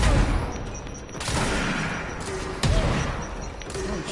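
Grenades explode and guns fire in a combat scene of the video game Control, with heavy booming blasts and sharp bursts of shots against a rumbling background.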